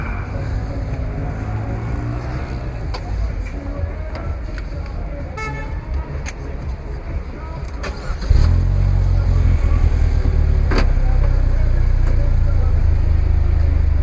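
Vanderhall Venice Speedster with DTE Systems tuning, heard from inside on a Monaco track, with a steady engine hum that jumps to a louder, deeper drone partway through as it starts driving, and a few faint clicks along the way.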